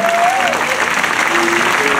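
Steady applause from an audience fills the whole stretch, dense and continuous, with a faint voice or tone threading through it.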